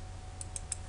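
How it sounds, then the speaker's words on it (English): Computer keyboard keys pressed while working in a C++ programming editor: three quick, light clicks close up over a low steady hum. "Then I click enter. Then I click control V."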